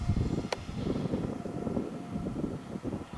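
Yak-11 RC model plane climbing after takeoff, its electric motor giving a steady, fairly loud drone mixed with wind buffeting on the microphone and one brief click.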